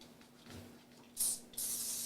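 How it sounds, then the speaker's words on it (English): Homemade foaming cleaner sprayed from a spray bottle onto a colander: two close, loud hissing bursts, the first short and the second longer and sustained, over a faint low background hum. "I'm just spraying on my little colander that I got here for another hack."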